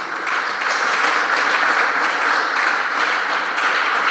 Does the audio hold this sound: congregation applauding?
yes